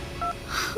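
A telephone number is dialed in a Bhojpuri web series drama scene, with a few short, soft keypad tones in quick succession. A faint electronic hum runs underneath.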